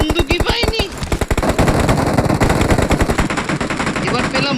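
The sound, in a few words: gunfire in video game BGMI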